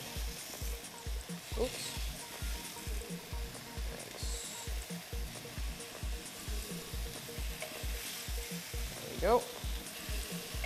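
Food fries in a pan with a constant hiss, with a few soft scrapes as pieces are flipped, close and fairly quiet, while a low rhythmic music beat runs beneath and a voice speaks briefly.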